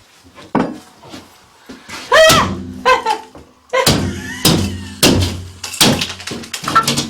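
A wooden door is carried in and set down against a wall in a country house under renovation, with loud knocks, thuds and scrapes at close range amid movement and brief voices.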